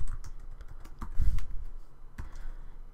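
JavaScript code typed on a computer keyboard, a short burst of close, quick key clicks with a heavier thump in the middle, no voices.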